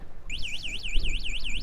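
A DYU A5 electric city bike's anti-theft alarm siren starts abruptly and warbles rapidly up and down, repeating steadily with a low rumble underneath.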